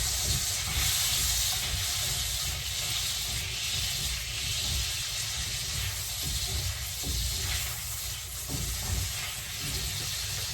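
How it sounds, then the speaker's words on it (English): Butter browning in a pot on the stove, giving a steady soft sizzle and hiss that runs continuously at low level with no talking. "we have all the way over here in this pot the butter in here, and we're just going to brown it"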